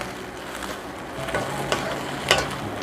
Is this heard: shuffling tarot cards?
no